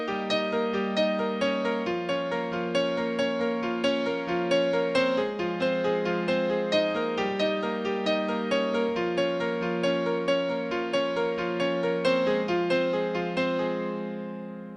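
A song on piano at full tempo with sustain pedal, a continuous cascade of rippling arpeggiated chords blending smoothly, close-miked and alone, fading out at the end.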